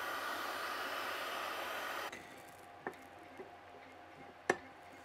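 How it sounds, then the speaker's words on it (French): A heat gun blows steadily as it heats the bearing seat of a motorcycle engine crankcase, then cuts off halfway, leaving faint room tone and a few small ticks and taps. "moi je vais commencer à chauffer justement ma portée de roulement, juste ici"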